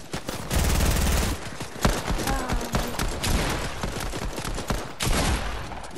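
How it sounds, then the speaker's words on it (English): Rapid automatic gunfire in Fortnite: bursts of fast shots, some sustained and some clipped short, fill most of the stretch with loud, crackling reports and brief gaps between volleys. "I'll just shoot him in the back"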